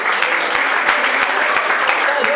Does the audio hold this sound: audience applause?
yes